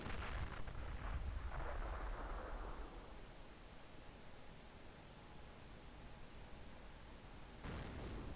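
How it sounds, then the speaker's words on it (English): Mortar fire in Company of Heroes: a loud, rumbling blast at the start that fades into a long noisy wash, followed by another sharp impact near the end. "They're hitting me with the mortars."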